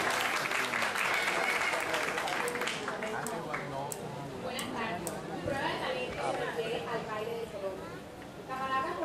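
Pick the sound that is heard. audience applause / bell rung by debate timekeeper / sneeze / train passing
audience applause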